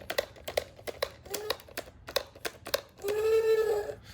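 Plastic legs of a Kenner Lost World Parasaurolophus toy, almost 30 years old, clicking in a quick run of sharp ratcheting taps, close up, followed by a brief sustained electronic toy honk near the end.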